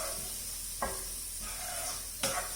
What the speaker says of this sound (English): mix that in with the jiru, just saute it